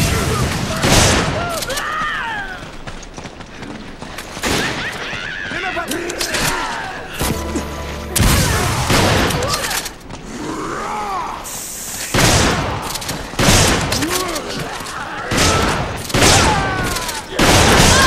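Video-game gunfire comes in repeated loud bursts and booms across the stretch, mixed with grunts, mechanical clatter and voices talking and shouting over the combat.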